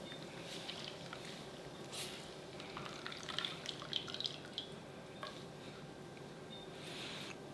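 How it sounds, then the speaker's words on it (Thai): Blended pandan leaf juice strains through a tea filter bag, falling as faint, close dripping and trickling with a few brighter drops over a quiet background. "พอปั่นละเอียดได้ที่แล้วก็ให้เรานำมากรองเฉพาะน้ำนะครับ ผมก็ใช้ เป็นถุงกรองชานี่นะ"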